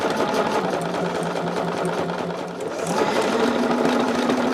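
A sewing machine stitches binding onto a quilt, a steady close mechanical whirr with rapid needle chatter that briefly slows and then speeds up again.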